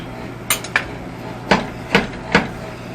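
A hammer taps a part onto the CV axle of a Daihatsu HiJet mini truck, five sharp close metallic knocks in uneven succession over a quiet workshop background.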